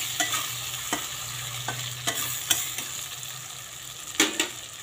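Katla fish curry being stirred in a pan after turmeric powder goes in, a soft continuous sizzle broken by several sharp spoon scrapes and clicks against the pot, no voices.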